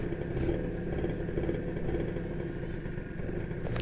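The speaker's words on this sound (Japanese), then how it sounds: "アクセルの突きちょっと悪いな。" Restored Suzuki Carna motorcycle engine running at a steady idle with light mechanical clatter, close and continuous, with a brief throttle rise near the end.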